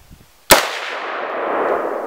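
A single loud rifle shot from a gun fitted with a FERFRANS muzzle brake cracks sharply, then a long, broad reverberant roar slowly fades.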